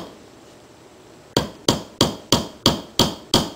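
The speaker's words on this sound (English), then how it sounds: "I always nail it at a slight angle." A nail is hammered into a wooden beehive frame: after a quiet moment, seven sharp, evenly spaced hammer blows ring out close by, each a crisp knock with a brief decay.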